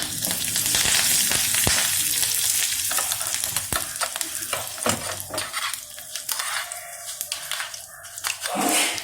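Curry leaves sizzling in hot coconut oil for a Pongal kuzhambu tempering, a loud spattering crackle that eases into intermittent pops and stirring scrapes, with a dog barking faintly in the background.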